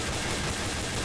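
Dense, continuous gunfire in a first-person close-quarters shooter match, a steady wash of shots with no clear gaps, loud and close throughout.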